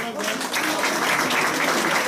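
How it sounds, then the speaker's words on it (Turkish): An audience at a Sinop promotional event in Istanbul breaks into steady, moderately loud applause that continues evenly, with voices mixed in beneath the clapping. "Sizlerden bir alkış istiyorum ama"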